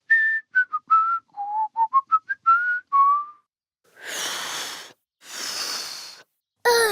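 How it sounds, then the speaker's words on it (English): A person whistles a short, halting melody of quick separate notes, followed by two long breathy exhales and a sharp intake of breath at the end. "And then you can whistle a tune."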